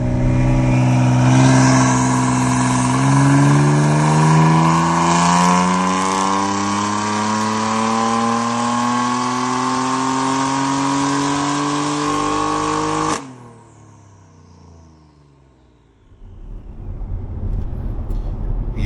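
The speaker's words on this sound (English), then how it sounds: "Last weekend, Lauren took his car onto the dyno, and this is what happened." A BMW M4 with an S55 engine and upgraded turbos revs hard on a dyno, pitch climbing steadily for about thirteen seconds before cutting abruptly, then the engine idles low and begins to rise again.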